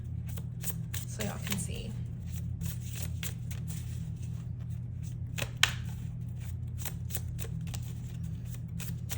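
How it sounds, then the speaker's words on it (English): A deck of tarot cards being shuffled, giving repeated papery riffles and flicks through the clip, with one sharper snap near the middle, heard close up over a steady low hum while someone talks briefly. "I have shuffled the decks, but I haven't like shuffled to get the cards out"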